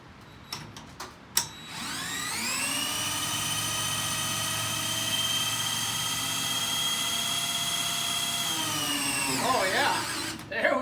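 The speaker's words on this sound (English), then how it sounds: "I'm going to go ahead and put my drill on this pump here and start spinning" A few clicks and knocks, then a power drill spinning the hydraulic steering pump of a Massey 1800 tractor winds up into a steady high whine that holds for several seconds before winding down and stopping.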